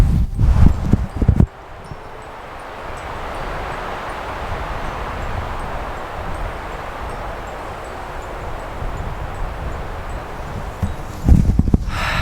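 Wind rushing through swaying trees in a canyon, a broad steady whoosh with rustling leaves lasting most of the time, framed by brief louder knocking and rumbling handling noises at start and end.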